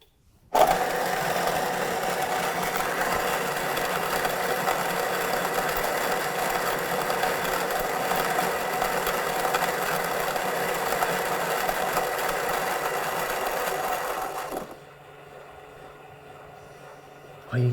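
An xBloom Studio coffee machine grinds coffee beans with a steady, close whirring hum that runs for about fourteen seconds before cutting off, leaving quiet room sound behind.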